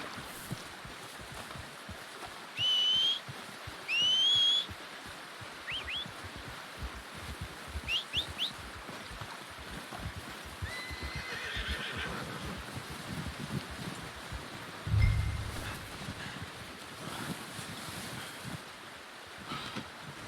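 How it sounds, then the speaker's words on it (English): In Red Dead Redemption 2, a rider gives two short, rising whistles to call a horse. Faint calls follow over a steady outdoor wind and water ambience, with a brief thump later. "Calling my horse."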